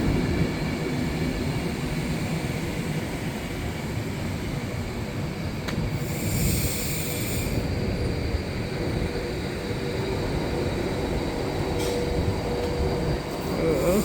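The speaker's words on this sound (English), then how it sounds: "passing through now is an Advanced West Coast Class 390 running from Manchester Piccadilly to London Euston" An Avanti West Coast Class 390 passenger train on its Manchester Piccadilly to London Euston run passes through Nuneaton station on the West Coast Main Line, producing a loud, sustained rushing rumble and hiss for the whole stretch, without speech.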